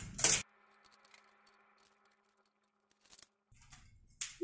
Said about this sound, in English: come back and take the shrink wrap off